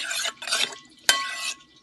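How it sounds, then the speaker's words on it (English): Whisking a French toast dipping batter of eggs, orange zest and freshly squeezed orange juice, with bursts of rapid scraping and clicking against the bowl, two quick runs, a sharp clink, then another run before it stops. "I'm going to mix this whole thing up into a nice sort of dipping batter"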